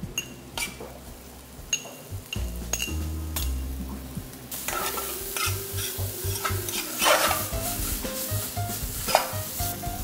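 Garlic sautéing in olive oil for a leek cream, with spoon and pan clinks at first, then a loud, steady sizzle under brisk stirring and scraping.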